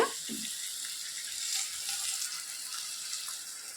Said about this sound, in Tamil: அரை லிட்டர் தண்ணி ஊற்றுங்க